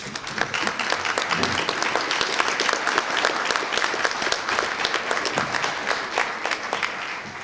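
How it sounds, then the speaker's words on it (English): A room full of people at a Veterans Day ceremony claps steadily for a high school chorus, a sustained round of applause that holds a fairly even level from start to finish. "could we have a round of applause for the Ludlow High School chorus"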